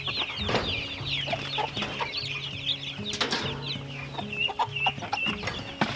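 Several chickens cluck and chatter nearby in an overlapping, busy flock, with occasional brief rustles or wing flaps.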